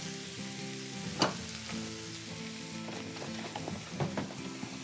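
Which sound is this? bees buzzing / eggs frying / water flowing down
eggs frying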